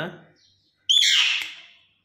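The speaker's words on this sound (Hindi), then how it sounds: "मेरी प्यारी मैना" A pet myna bird lets out one loud, close, harsh chirping squawk, after a brief stretch of a person talking quietly and a moment of silence.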